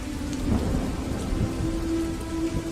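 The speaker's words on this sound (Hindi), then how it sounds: "और अचानक से बारिश तेज बरसने लगती है।" Heavy rain pours steadily with a low rumble of thunder beneath it, a dense, continuous hiss of drops close by and loud, with no voices.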